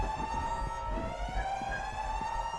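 A steady wailing siren sounds in a Backrooms horror setting, loud and continuous over a low rumbling background, with no voices.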